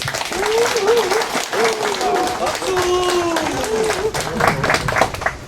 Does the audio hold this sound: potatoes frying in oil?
no